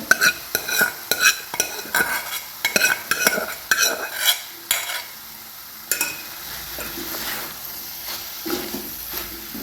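Roasted cauliflower is stirred into sizzling masala in a pan. Repeated scraping strokes come close and loud in the first half, then give way to a steady frying hiss, with no talking.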